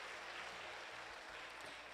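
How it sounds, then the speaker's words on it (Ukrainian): Audience applause at a sports club's anniversary ceremony honouring kickboxing masters of sport, a steady broadband clapping wash that fills the whole stretch at moderate level, with no voices over it. "Також давайте поаплодуємо."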